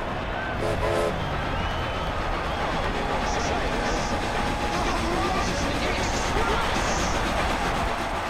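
A train rumbles past in a racing video game, with steady loud clatter and rushing noise, continuous throughout, and faint high chimes over the roar.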